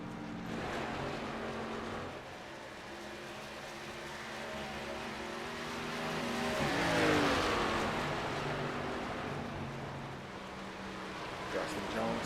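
Race cars in a Midwest Winston Cup Series event run on track, engines droning steadily then swelling as one car passes close by before fading, with a commentator talking over the noise throughout.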